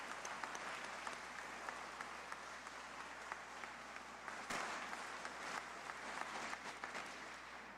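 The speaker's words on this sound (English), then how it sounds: "Let's give all of our high school winners a big round of applause." Audience applause at a student art competition awards ceremony, a continuous patter of many hands clapping heard from some distance in a hall, fairly quiet and steady with no talk over it.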